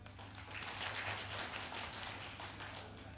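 Audience applause at a cải lương singing contest semifinal, a continuous even patter of many hands clapping at low level, no voices over it.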